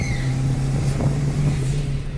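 Close, loud, rumbling engine note from a Chevrolet Celta 1.0 turbo whose exhaust has no muffler, holding a low steady drone with slight wavering in pitch throughout.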